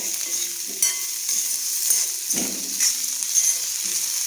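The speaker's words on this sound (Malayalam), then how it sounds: "കരിവേപ്പില നമുക്ക് സവാള ഇട്ട് കൊടുക്കാം സവാള വഴന്ന് വരുന്നുണ്ട് കിഴങ്ങ് ക്യാരറ്റ് ഇട്ടിട്ടുണ്ട്" Onion, potato and carrot sautéing with ginger and curry leaves in a pan for masala dosa filling, a steady close sizzle with stirring scrapes and a few utensil knocks throughout.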